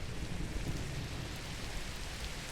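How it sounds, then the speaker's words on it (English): Steady hiss of rain falling in the Minecraft video game, a constant even wash of noise with no breaks, fairly quiet and with no voices over it. "Rain, go away, please."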